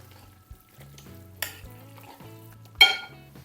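Homemade Christmas mincemeat is being stirred, giving soft scraping strokes with three sharper scrapes spaced a second or so apart, close and fairly quiet, with no voices.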